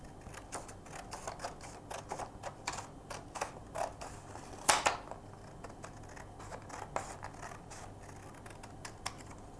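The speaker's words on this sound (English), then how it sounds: "I'm going to take my pair of scissors and cut along the long diagonal" Scissors snip along the diagonal of a paper shape in a steady series of short, crisp cuts, close and fairly quiet, with one louder snap midway and no talking.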